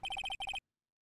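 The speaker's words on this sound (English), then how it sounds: "I heard a phone ring just now." A phone ringtone in the Phoenix Wright Ace Attorney video game chirps in two quick bursts of rapid electronic trills, brief and fairly faint, then cuts to silence.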